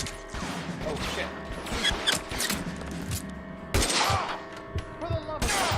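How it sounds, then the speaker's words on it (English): Rapid gunfire from the crime video game L.A. Noire, with bursts of shots, metallic clanks and impacts layered over dense game sound, loud and busy throughout, with a player's voice faintly in the mix. "Where are they shooting from?"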